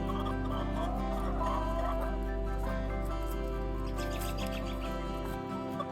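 An Easter Egger hen makes soft, low clucking calls against a constant mechanical hum in the background.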